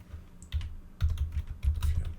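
Keys clack on a computer keyboard as a short note is typed, three quick bursts of close, fairly quiet keystrokes with brief pauses between them and no talking.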